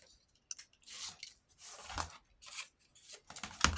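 Scissors snipping through paper for a cherry blossom craft, several close crisp cuts with short rustling gaps between them, no speech.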